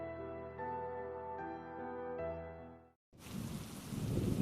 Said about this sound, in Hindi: अगले दिन हल्की हल्की बारिश हो रही थी।